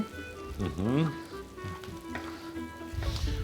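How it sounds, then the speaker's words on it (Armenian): Bulgur fries in a pan with veal and onion, making a crackling sizzle that rises and falls. Someone speaks over it, and a stirring scrape comes near the end. "բլղուրը ավելացնենք եւ մի փոքր իրան էլ տապակենք մսի եւ սոխի հետ"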